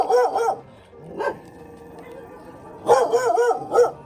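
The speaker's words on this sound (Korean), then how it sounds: "아, 물진 않아요. 짖기만 해요." Large shelter dogs in a big kennel bark in short bursts, loud and close, with pauses between volleys and a brief whine in the gap.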